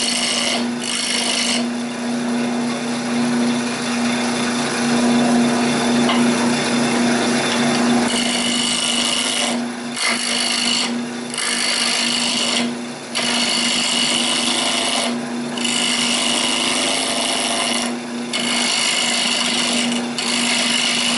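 An oak lid spinning on a wood lathe while a gouge cuts it, giving a steady motor hum under a continuous rasping scrape of tool on wood, broken by several brief pauses as the gouge lifts off.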